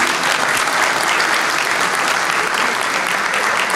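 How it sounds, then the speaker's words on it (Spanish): Audience applause at a mayor's public accounts event in San Carlos, a steady, dense clapping from a large crowd that fills the whole stretch without pause. "Para la cual también le vamos a pedir un aplauso."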